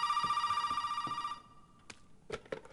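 A telephone rings in Resident Evil 7 with a sustained electronic trill that cuts off partway through, followed by a few sharp clicks and knocks.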